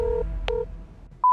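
A telephone number being dialed, a few short, clear keypad tones in quick succession, then a sustained ringing tone beginning right at the end, close and clean with no voices.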